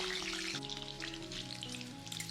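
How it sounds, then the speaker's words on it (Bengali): Potatoes frying in about four tablespoons of oil in a kadai, a dense, continuous crackling sizzle, close and steady, over a faint low hum. "আলুগুলো একটু ভেজে নিচ্ছি।"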